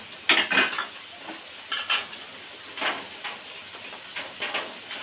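Shrimp go into a pan of cooked taro greens, a few close metallic clatters and scrapes of a utensil against the pan with a soft steamy hiss between, in separate bursts and no talking.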